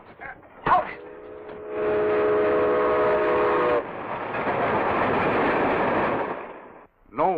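A train runs with a loud, steady rumble in an old Dick Tracy radio-serial scene, its whistle sounding briefly near the start before the rolling noise swells and continues to the end.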